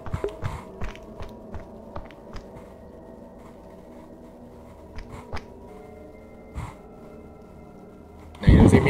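Footsteps in VRChat Infested tap out as a run of quick, light, regular steps early on, then thin to scattered clicks over a low hum before a loud burst at the end.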